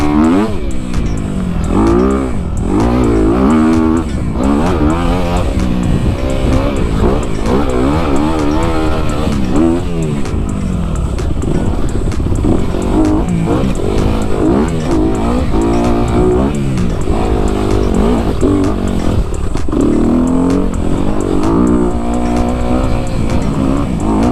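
Dirt bike engine revving hard while riding through Southern California desert, loud and close throughout, the pitch rising and falling in repeated throttle bursts with no pauses, no talk.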